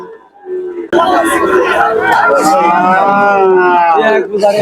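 A cow moos loudly and close at a crowded cattle market in Tangail, one long drawn-out call over the chatter of the crowd, with people talking around it.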